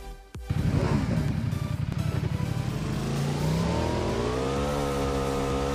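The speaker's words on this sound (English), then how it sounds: "You will find a ramp here. You need to ride your bike over it." A motorbike engine in PUBG on the Erangel map roars as the bike rides up a ramp, starting with a sharp thump, then a loud revving drone that climbs in pitch and holds steady.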